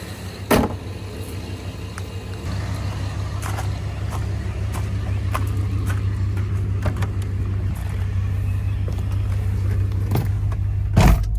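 A 1993–98 Jeep Grand Cherokee ZJ with the 5.2L V8 idles steadily at about 700 RPM after an idle air controller replacement, a low continuous engine hum with a few sharp clicks and knocks over it.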